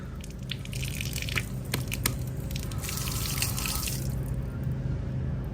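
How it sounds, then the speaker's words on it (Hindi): Water running steadily from a tap left open in a park, a continuous splashing hiss with scattered drips and clatter, fairly close and uninterrupted for several seconds. "ये नल पता नहीं किसने छोड़ दिया खुला"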